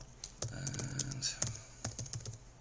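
Card details typed on a computer keyboard for an online van hire booking, a string of close, light key taps in uneven bursts, with faint voice in the background.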